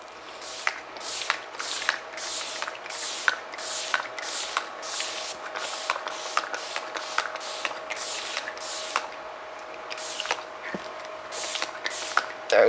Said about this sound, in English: So setting spray.